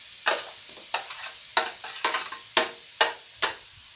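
Chopped tomatoes are tossed in a hot pan with about eight brisk, evenly spaced spatula strokes over a soft sizzle, close and clear with no voices.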